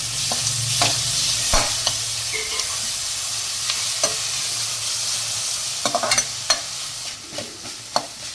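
Tomato and onion sauté in a hot pan, a continuous soft sizzle broken by sharp spatula scrapes and stirring clatters at irregular intervals, close and clear with no talking.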